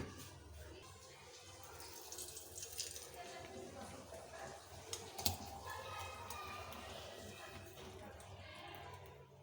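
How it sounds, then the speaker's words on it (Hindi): Mango milkshake poured from a blender jar into a serving glass, a steady liquid pouring and splashing wash with a faint clink partway through, close by and without talk. "इसको जल्दी से उतारते हैं मशीन के ऊपर से और सर्विंग ग्लास में"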